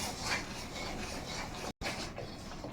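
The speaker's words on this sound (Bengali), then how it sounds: "এটা দিয়ে একটু ভালো করে নেড়ে নেব।" A spoon scraping and stirring raw green mango pulp in a pan while cooking aamsotto, a steady close rasping rub that runs continuously with one brief break, no voices.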